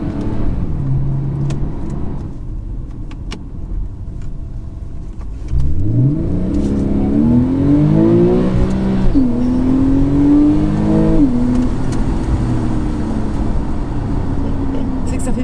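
A Porsche 997 Carrera 4S engine idles with a low rumble, then revs up loudly through rising gears as the car accelerates, its tone climbing and dipping between shifts under faint cabin talk.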